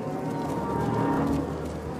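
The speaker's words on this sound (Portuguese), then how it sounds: "Mas Brian conseguiu fazer suas vacas preencherem o espaço um dia ocupado por bisões" Cattle low on open ranch land grazed in place of bison, a steady, close, continuous mooing with no talk over it.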